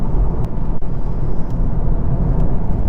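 A VW Golf Mk8 GTI S on all-season tires corners hard, giving a loud, steady engine and road roar with tire noise throughout.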